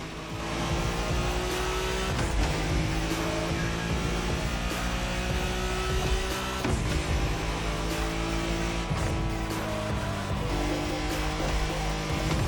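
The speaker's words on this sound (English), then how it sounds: "You're driving Ren's Skyline this time" Nissan Skyline R34 driven in The Crew Motorfest, its engine roaring loud and continuous with rising revs, gear-shift drops and climbs again, close and dominant with no talking.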